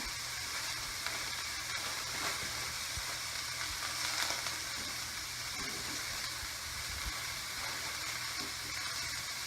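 Noodles for a peanut stir-fry sizzle in a hot pan, a continuous close crackling hiss with occasional stirring scrapes and small pops, fairly quiet and steady.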